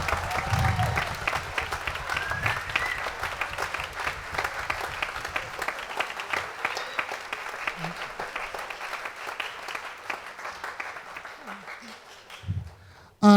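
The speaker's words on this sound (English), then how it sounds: "Give them a round of applause." An audience at a spring band concert claps for two percussionists, a sustained crowd applause that fades gradually over about twelve seconds and ends in a sharp thump.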